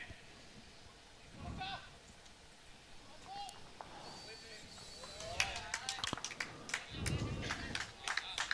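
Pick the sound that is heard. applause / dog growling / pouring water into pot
applause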